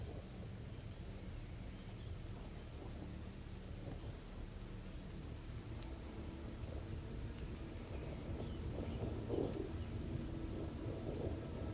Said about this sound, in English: The rain is again just whipping at the windows.